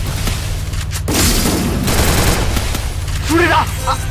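Rapid bursts of gunfire and booming shots from the Free Fire mobile battle game, loud and dense through much of the clip, with a short chirpy in-game sound near the end.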